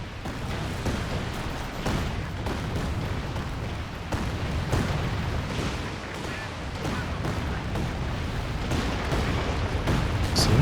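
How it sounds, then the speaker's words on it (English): Rockets land in the World War II strategy game Company of Heroes 2, with a rapid series of booming artillery-like explosions and thuds rumbling continuously, while a voice speaks beneath the barrage. "And the rockets coming down."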